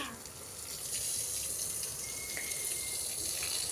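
Steady running water from a tap, a continuous broad splashing hiss with no voices, holding even throughout.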